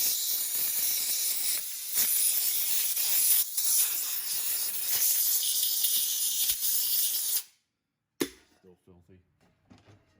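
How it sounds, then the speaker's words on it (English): Compressed air blasts against the cover of a McCulloch Pro Mac 700 chainsaw, a loud, steady, close hiss with brief bursts that runs for several seconds, then cuts off into near silence followed by a few short spurts. "Let's blow this out, blow the cover out, maybe get a little bit of oil in there."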